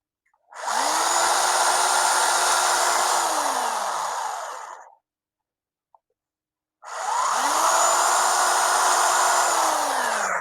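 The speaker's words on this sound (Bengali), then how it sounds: "এই মাঝখানে আমরা মেশিন দিয়ে ফোটা করে দেবো।" A power drill bores holes for fitting a holder, running in two loud sustained whirring bursts of about four seconds each, with the motor winding down after each one.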